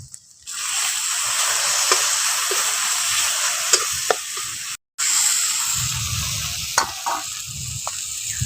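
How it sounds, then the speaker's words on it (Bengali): A spice paste of ground chilli, seasoned with salt, is sautéed in a pan: a loud, close hiss of frying with repeated scraping strokes of stirring, broken by one short silent gap midway, with no talk. "এটা দিয়ে ভালো করে এখন কষে নিচ্ছি মশলাগুলো"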